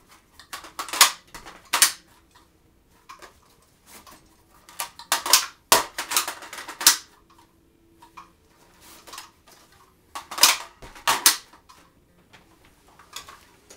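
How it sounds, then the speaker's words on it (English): An XD pistol drawn and AK rifle magazines swapped in a defensive drill: sharp metallic clacks and rattles in irregular clusters, close and fairly loud, separated by quiet pauses. "draw the XD, do a couple mag changes of that."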